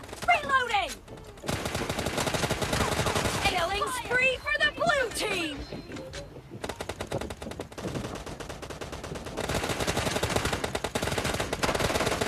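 Rapid automatic gunfire from PUBG Mobile rattles in long, dense bursts with short pauses between them, loud and close, while a player talks over parts of it.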